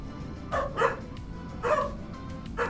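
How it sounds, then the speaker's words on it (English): Dogs bark in the Farming Simulator 25 video game, a few short, close yapping barks in two pairs and a final single yip over a low background hum. "doggos are very sprightly this morning"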